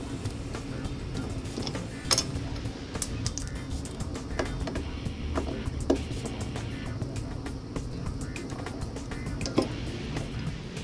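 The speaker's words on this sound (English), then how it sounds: "take my 6mm hex wrench and take off the rear foot peg plate" Metal clicks and scrapes of a 6mm hex wrench loosening bolts on the rear foot peg plate of a 2010 Kawasaki Ninja 250, scattered sharp ticks over a steady low background hum, close and moderately quiet.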